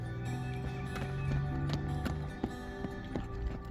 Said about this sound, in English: Look how pretty this horse is.